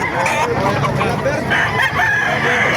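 Several roosters at a chicken market in Calumpit, Bulacan crow over one another in a dense, continuous chorus, loud and near, with market bustle underneath.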